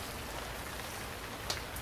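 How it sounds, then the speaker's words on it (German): Rain falls steadily in the survival video game Stranded Deep, a constant soft hiss of drops with one brief sharper tap near the end. "Boah, ich verstehe mein eigenes Wort nicht mehr, so regnet."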